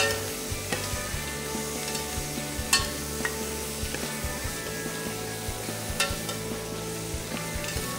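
Shellfish shells roast in a hot pan with a continuous crackling sizzle, punctuated by occasional sharp clicks and taps as they shift against the metal.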